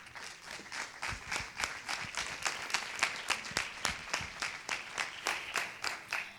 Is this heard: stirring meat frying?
no